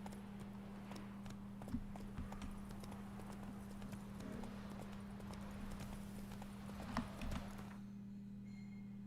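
Roach, the horse in The Witcher 3 video game, trots with a brisk, regular clip-clop of hooves over a low steady hum, with a few louder hoof strikes along the way.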